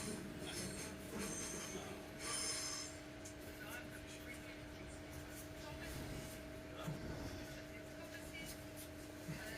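A Southeastern passenger train bound for St Pancras International runs steadily on the rails with a continuous rumble and faint wheel squeal, while steady onboard tones hum throughout.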